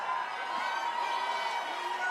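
Large crowd at a New England Patriots Super Bowl send-off rally, a broad, steady wash of cheering and noise heard from within the gathering.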